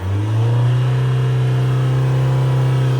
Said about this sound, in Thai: เดี๋ยวเรามาดูจากรอบเครื่องยนต์กันหน่อย จัดไปสี่พันเลย